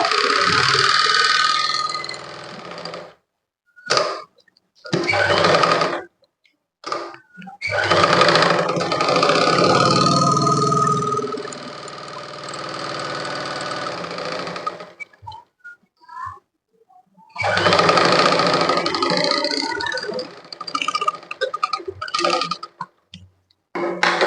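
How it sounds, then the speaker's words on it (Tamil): Domestic sewing machine stitching fabric while the lower thread loops loosely, running in loud bursts of whirring with short pauses between runs and a longer stretch of steady stitching. "இப்போ நான் தைக்கிறேன் பாருங்க"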